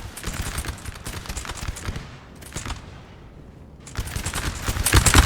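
Musket firing-line volleys in the Napoleon Total War video game crackle as dense rolling bursts of shots. The bursts ease briefly mid-clip, then return louder, with no voices.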